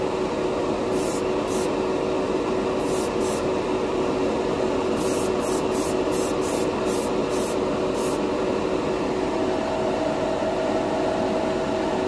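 Clear candy paint hisses out of a spray can onto a clear plastic model-kit piece in a steady, close, continuous spray, with faint intermittent ticks above it.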